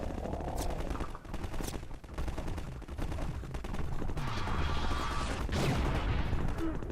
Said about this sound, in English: let's see if we can do good with the alt fire cannon this time